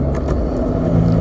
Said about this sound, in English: Let's give it a downshift.